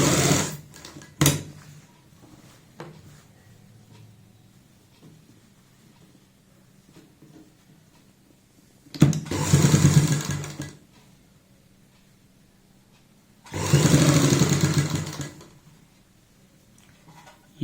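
Domestic sewing machine stitching a little girl's frock with a presser-foot-width seam, heard in two distinct multi-second runs of stitching separated by quiet pauses and a few faint handling clicks.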